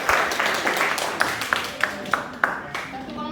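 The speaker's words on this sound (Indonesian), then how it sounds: "Tepuk tangan untuk kelompok 3." A short burst of applause in a school classroom after a group presentation, with a steady run of separate sharp claps standing out over a noisy room with voices.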